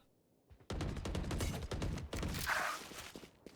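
Gunfire in the tactical shooter Valorant during a college tournament match, a sudden burst of rapid automatic shots, loud and sustained after a quiet start.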